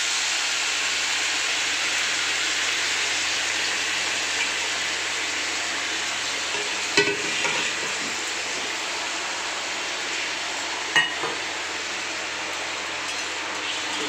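Marinated chicken pieces fry in hot spices, a steady broadband sizzle running throughout, with a couple of brief scraping stirs standing out near the middle and again toward the end.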